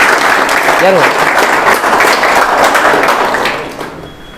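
An audience claps loudly at a coaching-class quiz event in Latur, continuous close applause that trails off at the end, with a brief voice mixed in.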